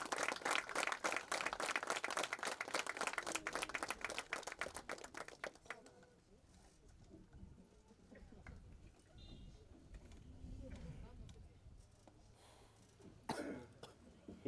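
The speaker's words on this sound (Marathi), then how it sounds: "जोरदार टाळी त्याच्यासाठी" Loud audience applause at the launch of a Hindustan biodiesel pump, dense clapping for about five seconds that then drops away to quiet crowd murmur, coughs and scattered movement.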